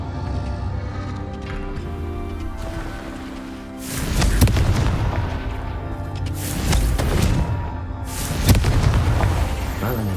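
Confringo explosion spells in the Hogwarts Legacy video game, with three loud booming blasts spaced a few seconds apart over a low ambient background. A voice speaks between them.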